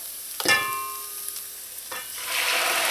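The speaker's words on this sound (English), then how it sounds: "Now I'm going to add in my cassava." Cassava dropped into a pot of sautéing seasonings, with a sudden clatter followed by a second splash and a rising sizzle, close up.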